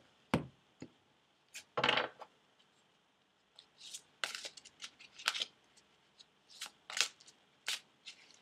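Tarot cards are shuffled for a reading in short, crisp riffling bursts separated by pauses, close and fairly quiet, with no talking.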